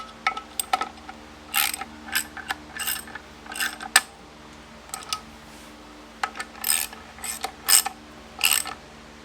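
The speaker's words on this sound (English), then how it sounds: "Man, this ratchet sucks." A ratchet wrench clicks in quick clustered bursts separated by short pauses, sharp and close, over a faint low background hum with no talk.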